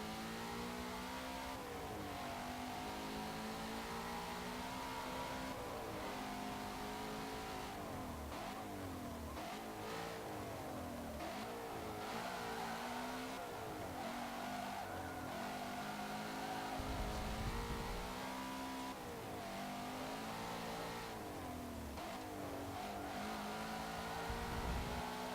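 Ford Mustang engine in a racing game, loud and continuous, revving up and down through repeated gear changes as the car accelerates, with no talk.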